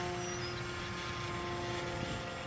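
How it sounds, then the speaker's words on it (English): HobbyKing Extra 260 RC airplane at full throttle on its maiden flight, a steady, loud buzzing motor and propeller drone that holds constant throughout. "let's go to full throttle."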